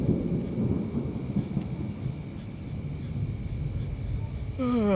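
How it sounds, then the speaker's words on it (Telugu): A thunderstorm with heavy rain, heard as a dense steady downpour with low rumbling thunder underneath and a faint tonal hum, continuing throughout with no clear voices. "ఏం వర్షం పడుతుందిరా."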